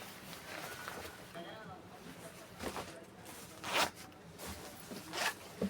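A zipper on a children's bag is pulled open in several quick rasping bursts, between quieter handling noises while a person talks.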